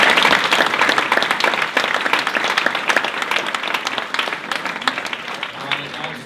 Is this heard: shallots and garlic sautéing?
no